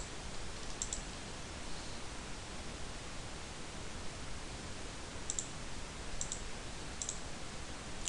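A computer mouse gives a few sharp, faint left clicks, one near the start and a quick cluster later, over a steady background hiss with no voices.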